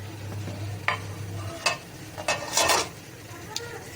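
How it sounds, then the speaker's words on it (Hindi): A spoon stirs rice through fish pulao in a pot, giving a few close scraping and clinking strokes over a soft background hiss, with no voices. "असां हाणे हिनखे मिक्स कंदासीं चांवरनि खे"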